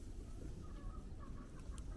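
A chicken clucks softly in a farm yard where horses are worked, with a few short, faint clucks set against a low rumbling background and no talk.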